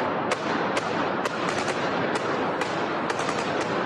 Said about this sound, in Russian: очередь из автомата Калашникова